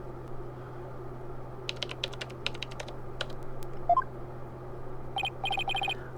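Keyboard typing in Phoenix Wright: Ace Attorney – Spirit of Justice, a quick run of crisp keystrokes followed by a few beeps and a repeating pattern of electronic blips over a low steady hum.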